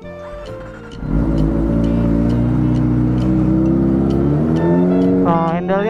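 A Kawasaki ZX25R motorcycle engine turns over and catches, then settles into a loud, steady, high-pitched idle close by. A voice speaks briefly at the very end.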